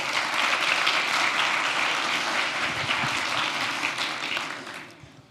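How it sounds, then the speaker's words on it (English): A lecture audience claps steadily for a person called up front, a dense wash of applause from a full room that fades out over the final second. "So a round of applause for Sam."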